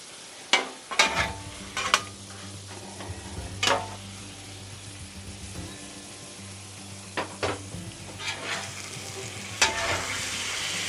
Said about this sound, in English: you want that liquid to cook out, so we are just going to leave it here on the griddle, let it do its thing